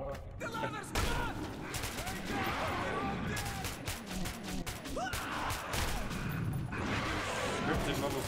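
Gunfire from the game Metro 2033 Redux crackles in rapid bursts and scattered shots, loud and continuous over the whole stretch with mechanical clatter between volleys.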